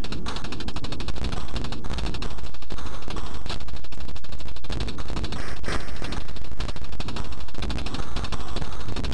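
Gunfire in a Commodore 64 Godzilla game sounds as continuous, harsh rapid chip-sound rattling and crackling, loud and dense throughout with no pauses.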